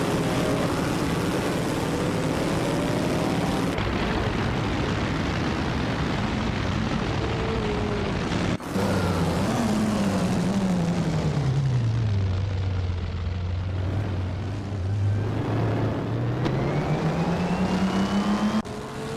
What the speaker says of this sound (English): Amy's car is an Auto Union Type C, starting in 7th place